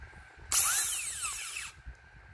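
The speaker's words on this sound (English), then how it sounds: "Hold the burr, hold the handpiece very firmly." A high-pitched whine from a dental handpiece and bur drilling a mandibular first molar during MOD Class II preparation practice, lasting about a second, close and fairly quiet, with soft low background rumble.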